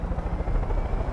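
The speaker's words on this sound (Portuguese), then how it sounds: "Só vai, helicóptero." A helicopter in Far Cry 5, its engine and rotor making a loud, steady low drone with a faint rhythmic pulse, heard on its own without any talk.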